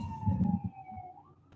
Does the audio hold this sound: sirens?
yes